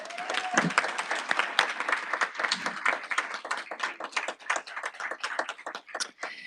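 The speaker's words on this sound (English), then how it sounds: "Give him a round of applause" An audience at a governing board meeting applauds an award recipient, crisp and close, with individual claps standing out in a lively, uneven patter that runs the full length with no talk over it.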